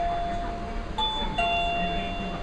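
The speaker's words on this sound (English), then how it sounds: "That's a doorbell chime." A doorbell chime rings indoors, two clear tones sounding in quick succession, moderately loud and alone without talk.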